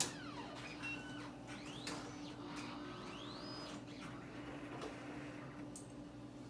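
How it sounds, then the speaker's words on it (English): An x-ray cassette being loaded into a radiography reader machine, with a steady mechanical hum plus rising and falling motor whirs and small clicks, fairly quiet and close, no talking. "we're going to place our cassette into our machine to load the x-ray"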